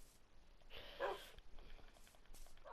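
A wolf in the Minecraft video game gives a short bark, fairly close and moderately loud, with softer game noises before and after.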